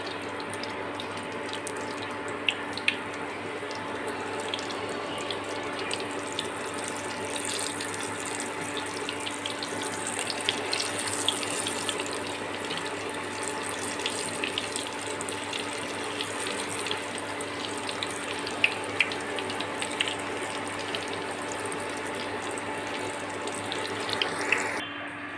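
Egg samosas fry in hot oil in a pan, giving a steady, close sizzling hiss scattered with small crackles and pops that runs unbroken throughout, with no voices.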